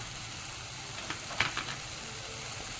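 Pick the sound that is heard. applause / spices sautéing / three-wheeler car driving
spices sautéing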